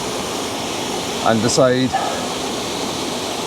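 Broadband rushing of Linn Falls fills the scene steadily from start to finish, a constant wash of falling water with a voice speaking briefly over it midway.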